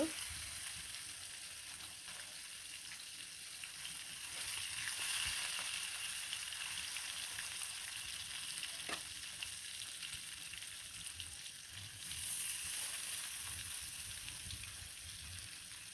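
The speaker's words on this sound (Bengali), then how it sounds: "সবগুলো মাছই কিন্তু তেলে এক এক করে দিয়ে দিব" Native koi fish frying in hot oil, a steady dense sizzle and crackle that swells slightly as pieces are added one by one, close and continuous with no talking.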